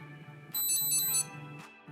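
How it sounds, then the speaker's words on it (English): Three quick high-pitched electronic beeps from a Garmin Edge bike computer, alerting to another vehicle detected by a Varia RCT715 rear radar, sound in a tight cluster, crisp and near, above a low steady hum. "The Edge device beeps again when another vehicle is detected."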